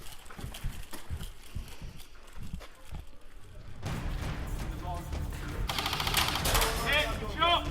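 Airsoft guns firing in bursts during an outdoor skirmish game, with sharp rapid cracks through the first seconds, then denser mixed noise and shouting voices of players over the shots.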